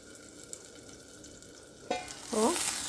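A brief burst of sizzling as eggplant is stirred in a hot pan, with quiet scraping and a rising hiss near the end.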